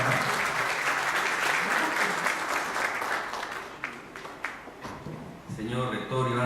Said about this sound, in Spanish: Un fuerte aplauso para el doctor Francisco Mira Quesada Rada.